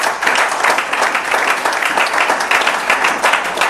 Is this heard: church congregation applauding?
yes